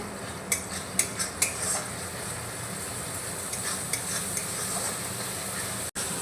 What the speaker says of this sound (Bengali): মশলাটাকে এবার সুন্দর করে কষিয়ে নেব